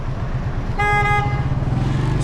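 In dense Cairo street traffic, a car horn gives one short, loud toot over a close, steady rumble of engines, heard from among moving vehicles with no voices.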